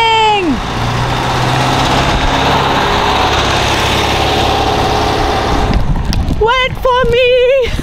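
A camper van's engine runs while driving, a steady loud engine and road drone filling most of the stretch, then giving way near the end to a sharp, wavering tonal sound like a horn or whistle.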